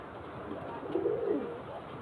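A pigeon in a loft gives a single soft coo midway through, faint and close against a quiet, hissy background.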